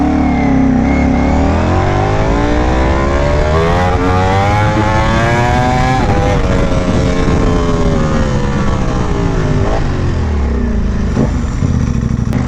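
An Aprilia RSV4 Factory sport motorcycle engine revs loud and close, rising and falling in pitch through repeated gear shifts, with a steady roar and no talking.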